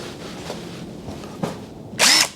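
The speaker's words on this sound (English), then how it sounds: "Power tools. So that should make this a little bit easier to get this off." A short, loud burst of a power drill whirring near the end, removing the hood of a 1986 Nissan Pulsar, after a few quiet knocks and rustles.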